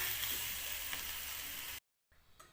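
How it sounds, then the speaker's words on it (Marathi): Homemade vegetable curry frying in a pan, a steady hissing sizzle that cuts off abruptly near the end, followed by quieter faint clatter. "आता भाजी चांगली फ्राय करून घेते"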